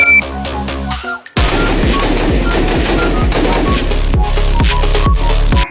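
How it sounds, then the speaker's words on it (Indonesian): A toy gun fires a rapid electronic burst of shooting effects, loud and continuous for several seconds after a short pause, with a dense rattling gunfire pattern and steady repeated bangs. "mainan tembak-tembakan"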